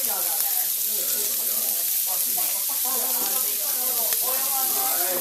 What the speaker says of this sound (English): Looks like we're doing a little sear on the pork chop.